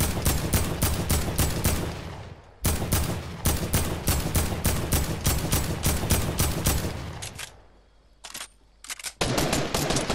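Rapid bursts of automatic gunfire from unseen enemies in Fortnite, loud and close, firing in fast repeated volleys with one short gap near the start and a longer pause before the shooting resumes.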